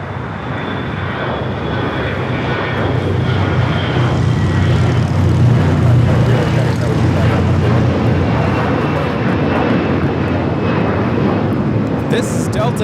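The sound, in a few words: Delta Airlines A321 taking off from LAX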